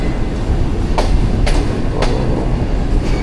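Green Line Express train pulling into Wazirabad railway station, a steady loud rumble of rail wheels and carriages with a few sharp metallic clacks and squeals over the continuous noise.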